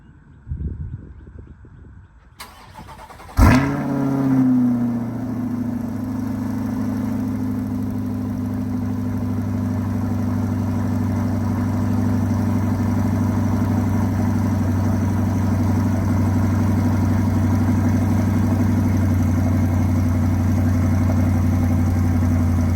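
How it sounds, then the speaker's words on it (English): A 2023 Corvette C8 3LT Z51 V8 fires up from cold after a quiet moment, with a sharp loud starter catch and flare, then settles into a steady, strong, deep idle that rumbles on alone without talk. "So first cold start ever for me with this vehicle, so let's go."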